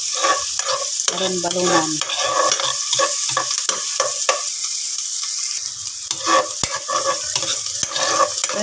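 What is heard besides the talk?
sautéing onion and garlic in pan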